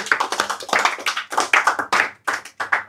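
A live audience at an Islamic lecture bursts into rhythmic group clapping, dense and fairly close, swelling in waves with brief dips and no talk over it.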